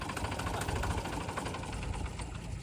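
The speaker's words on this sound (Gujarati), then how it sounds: "એ ચાલુ કર્યું. એ ભોળા બંધ કર ટ્રેક્ટર બંધ કર." A tractor engine running close by, a steady, rumbling idle with a rough, pulsing knock that holds at a constant level throughout; no voices.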